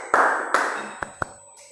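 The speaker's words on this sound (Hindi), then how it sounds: "ताली बजा दो" Students in a biology class clap their hands together in a short burst: two firm claps followed by two lighter, quicker ones, fairly close and otherwise quiet.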